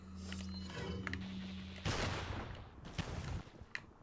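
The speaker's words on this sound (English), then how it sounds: "That is a fantastic noise, the hand cannon." A hand cannon fires in Resident Evil 4, Xbox 360 version, played on a new game plus run. One heavy booming blast cracks out partway through, after a steady low tone, then rumbles and tails off.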